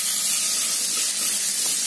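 Onion roasting in a pan for a tempering, a steady close hiss like spraying steam running throughout with no pauses or voices.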